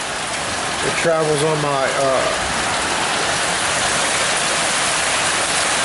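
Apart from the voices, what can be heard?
rain falling on concrete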